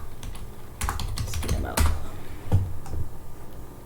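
Keystrokes on a computer keyboard while a CSS file is written in VS Code, irregular clusters of clicks with a few louder taps, fairly close and alone with no talking.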